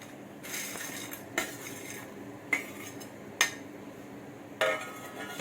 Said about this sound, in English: So now I'm going to add the Maggi. I'm just going to use a spoon to add it.